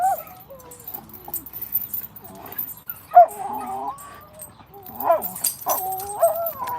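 A dog whimpers and yips in several short, high, wavering cries separated by quiet gaps, close to the microphone, with a brief louder yelp partway through.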